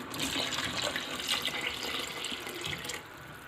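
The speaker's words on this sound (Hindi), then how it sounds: "अब मैं पानी डाल रही हूँ इसमें" Water pours steadily into a cooking pan to start a gravy for chicken Manchurian, a continuous close splashing stream that tapers off near the end, with no talking.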